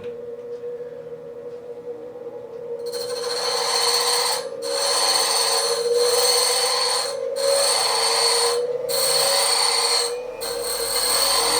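A 1/2 inch drill bit is hand sharpened on a grinder, a loud steady whine broken by repeated rasping grinding passes about every second and a half.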